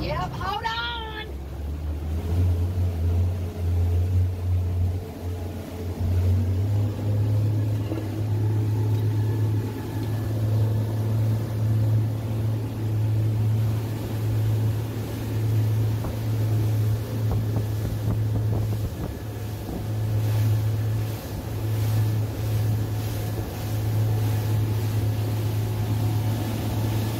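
Motorboat cruising on the open ocean between Pompano Beach and Key West, a steady loud engine drone with rushing wind and water noise throughout, and people speaking briefly near the start.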